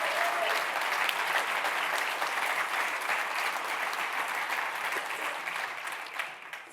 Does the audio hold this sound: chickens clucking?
no